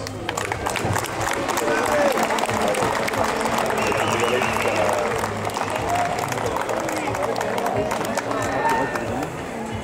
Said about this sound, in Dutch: deze mensen hier achter mij en op het podium op voorhand te bedanken met een hartelijk applaus